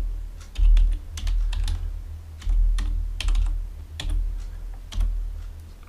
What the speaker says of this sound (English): And now we're going to enter the password.